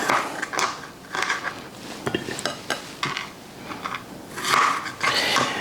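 Kitchen shears snipping fresh strawberries into pieces for a strawberry pie, a series of short crisp cuts and clicks with small clatters of the fruit, close and fairly quiet, with no talking.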